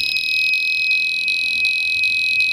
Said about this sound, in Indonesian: suara buzzer yang hampir mirip seperti suara penjual putu yang lewat ya teman-teman.